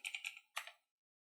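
Typing on a computer keyboard: a quick burst of about five crisp key clicks, a short pause, then two or three more, close and fairly quiet, followed by silence.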